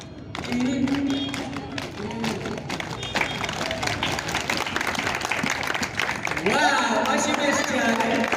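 A crowd at a Pathfinder club parade claps in a dense, sustained wash of applause. Someone talks over it throughout and briefly calls out near the end.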